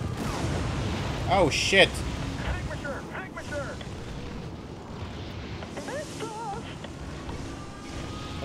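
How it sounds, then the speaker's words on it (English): Bombs burst on a city in the Spore video game, a series of booming explosions with crackling debris, the loudest near the start, while someone talks and exclaims over them. "I'm gonna bomb the shit out of your city."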